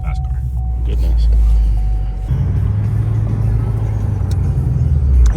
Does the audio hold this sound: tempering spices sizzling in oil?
no